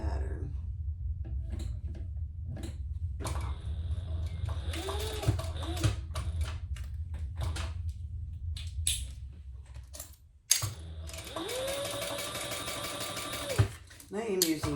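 A sewing machine runs steadily as it stitches down both side seams of a fabric sling flap with Tex 45 thread and an 18 gauge needle. There are two sustained bursts of stitching with short pauses and handling noises between them.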